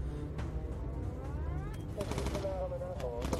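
Rapid aircraft machine-gun fire in the World War II bomber video game Bomber Crew, with sustained rattling bursts over engine drone while someone talks over it.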